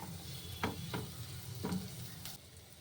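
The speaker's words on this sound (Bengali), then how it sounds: "এটা ততক্ষণই ভাজবো যতক্ষণ না এটা নরম হয়, তার থেকে বেশি ভাজবো না" Onions frying softly in a pan for dry masala prawn, cooked until tender: a quiet, continuous sizzle broken by three or four soft stirring scrapes, with no talking.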